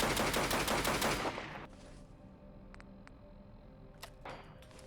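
Gunfire from a boxy, blocky pistol-type weapon in the video game Fallout: London, a loud dense burst of rapid shots in the first second or so, then quieter ambient game sounds with a few faint clicks.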